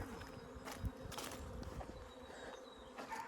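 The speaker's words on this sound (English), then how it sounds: "Yeah, there's still bees at the white hive." A steady drone of many honeybees buzzing close by at a hive after a swarm, a continuous insect hum with slight swells, fairly quiet overall.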